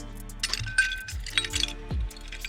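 Old nails clink and rattle as they are handled, a few bright metallic taps and jingles spread across a couple of seconds, close by, with no talk.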